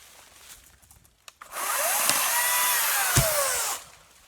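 An Atlas electric chainsaw cuts through wood outdoors in the woods, a single loud, close whine of about two seconds rising after a few faint knocks and then stopping abruptly.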